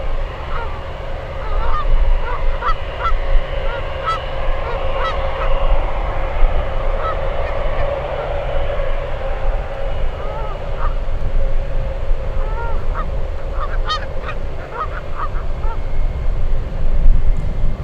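Geese honk repeatedly beside San Francisco airport, their calls scattered through the whole stretch over a steady roar of airport and aircraft noise, sometimes several calls bunched close together.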